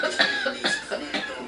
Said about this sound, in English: I don't cough like this.